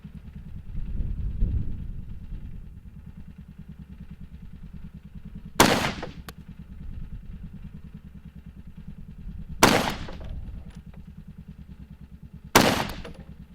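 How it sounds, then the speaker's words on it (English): Three sharp rifle shots fired at a target through a Vortex Viper PST 1-4x scope, each a loud, close crack spaced a few seconds apart over a low steady rumble, with no talking. "I'm going to shoot at center again"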